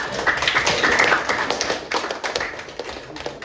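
Students in a classroom guidance session clap together, a dense burst of rapid hand claps that gradually thins out into scattered taps, with no talking over it.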